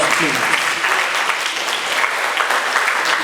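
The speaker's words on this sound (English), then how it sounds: "I think that deserves a good applause." A room full of people at a reunion ceremony claps steadily and enthusiastically, dense applause filling the space throughout.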